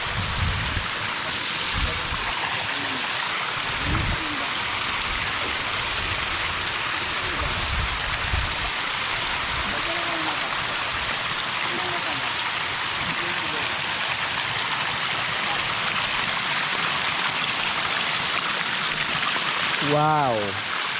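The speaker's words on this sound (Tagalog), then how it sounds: "nilinis natin para gumanda yung agos ng tubig" A cleared natural stream of water flows with a steady, broad rushing and splashing that fills the whole stretch. Voices murmur faintly beneath it, and a short chirping sound comes near the end.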